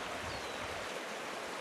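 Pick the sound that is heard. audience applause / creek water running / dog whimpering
creek water running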